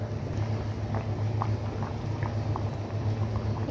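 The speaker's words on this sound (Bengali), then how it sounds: "এবার আমি এগুলোকে একটু সেদ্ধ হওয়ার জন্য রেখে দিব" Fish curry with new winter potatoes and tomatoes simmers in a pot, soft steady bubbling with faint pops over a low continuous hum, close by and without talk.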